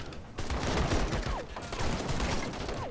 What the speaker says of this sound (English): Some of his guys apparently still have ammo. They're still shooting